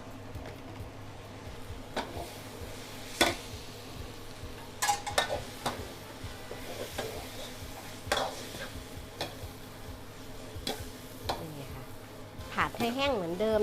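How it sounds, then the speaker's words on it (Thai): Pad thai noodles with vegetables stir-fried in a pan, with a soft sizzle under repeated clicking and scraping of a utensil against the pan, and a few louder clacks. "ผักใส ่ลงไปนะคะ ผัดให้แห้งเหมือนเดิม"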